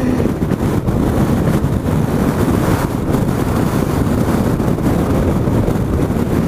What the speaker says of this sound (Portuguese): E dá cada rajada de vento lateral que a bichinha chega.